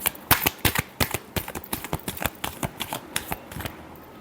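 Tarot deck being shuffled by hand, a rapid series of crisp, close riffling slaps and flicks in an uneven rhythm, with no one speaking.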